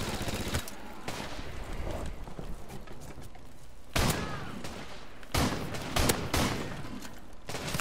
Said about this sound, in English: let's use a shotgun.